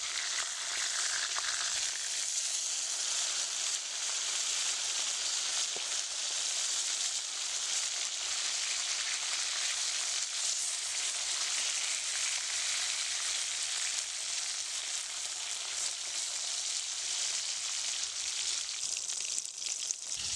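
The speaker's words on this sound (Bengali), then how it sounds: "মাছটা আমার এক পিঠ ভাজা হয়ে গেছে। মাছটা একটু উল্টিয়ে দিচ্ছি।" Katla fish pieces fry in hot oil with a constant dense sizzle and crackle, close and even, with faint scraping as the pieces are flipped over partway through.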